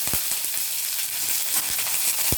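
Mustard seeds, methi and a handful of curry leaves sizzle and crackle in hot oil for an appalam vathakolambu, a steady close frying hiss dotted with a few sharp pops and no talking.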